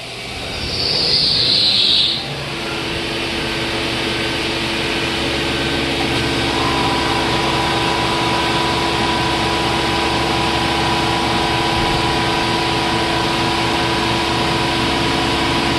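A Mazak CNC machine runs steadily with a loud continuous mechanical drone and whine, after a brief high hiss near the start, sounding close and unbroken.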